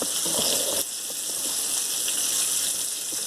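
Chicken drumsticks pan frying, a steady broadband sizzle and crackle of hot oil that runs loud and unbroken throughout, close up, with no talk over it.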